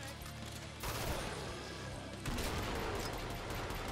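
Gunfire and grenade launcher shots in the Killing Floor co-op shooter, playing as the Demolition class, with dense, continuous bursts of loud shooting that grow heavier partway through.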